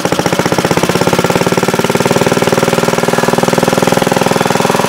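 The small engine of an antique moto-mower runs at a steady idle, putting out a loud, rapid, evenly spaced chugging pulse close by with no talk over it.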